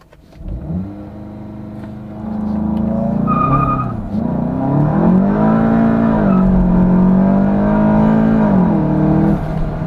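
Volkswagen Mk7 GTI fitted with a JB1 tune launching hard on a 0-60 run, its engine climbing loudly through the revs with a brief dip at the gear change before pulling strongly again, all close by.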